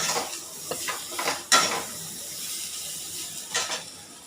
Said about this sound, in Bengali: তেল দিয়েছি, পাঁচফোড়ন আছে, আর শুকনো লঙ্কা তেজপাতা ফোড়ন, এই দিয়ে একটা তরকারি বানাচ্ছি